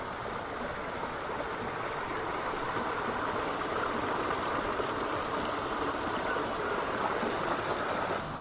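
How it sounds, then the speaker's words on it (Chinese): Fast stream water rushes steadily near Lam Tei Reservoir on a Tuen Mun hiking trail, a loud, constant broadband wash with no pauses and no voices. "听唔听到啲流水声啊？"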